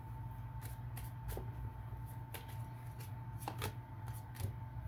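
Tarot cards are shuffled and drawn, with soft quick card flicks and slaps scattered irregularly over a steady low hum, close but quiet, and nobody speaking.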